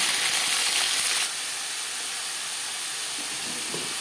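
Peeled, washed pumpkin pieces drop into a hot pan for Bengali shukto, giving a burst of loud hissing sizzle that quickly settles into a steady, softer frying hiss, with no voices.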